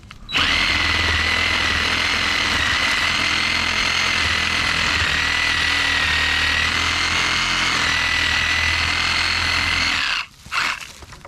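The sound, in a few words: Sawzall reciprocating saw cutting a piece off shed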